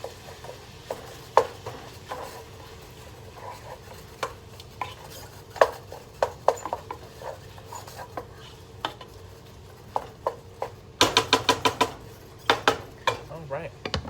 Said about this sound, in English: then we're just gonna mix this up